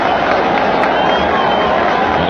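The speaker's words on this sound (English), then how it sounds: "the big crowd here at Shea revs it up, pounding their hands together" A big crowd at Shea Stadium during a 2000 NLDS Game 4 baseball game roars and claps in a dense, continuous wash of noise, loud and distant-sounding.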